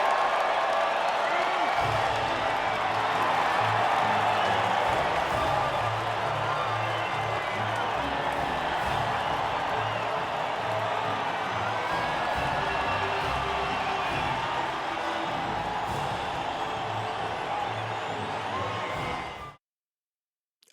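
A crowd cheers and applauds at the podium in the F1 2020 video game, a dense, continuous roar of voices and clapping that carries on steadily for about twenty seconds before cutting off abruptly.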